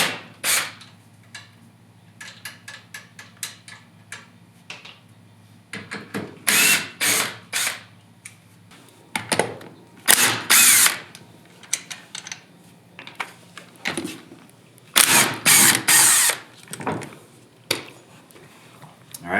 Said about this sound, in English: Sometimes you might have to break it, the lug nuts, while it's on the ground while there's load, but this gun should take it off.